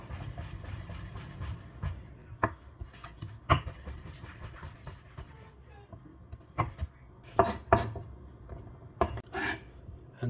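Food being chopped roughly with a knife on a board, a series of irregular, fairly quiet thuds and scraping knocks, some clustered closely together.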